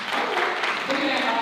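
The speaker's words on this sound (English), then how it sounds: "You can clap for him." Audience applause fills a conference hall at a panel summit, a steady wash of clapping throughout the short moment.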